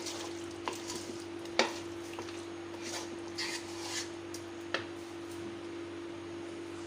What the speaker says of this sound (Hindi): नमक अच्छी तरह मैं मिक्स कर लेती हूँ।